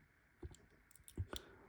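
Faint, sharp clicks from a lock being picked, a handful of small metallic ticks spaced unevenly in near silence.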